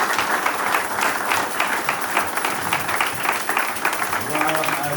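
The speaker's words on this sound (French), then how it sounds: "Est-ce qu'on peut acclamer le Seigneur?" Congregation in a church applauding and cheering the Lord, a steady wash of many hands clapping at moderate loudness, with voices mixed in throughout.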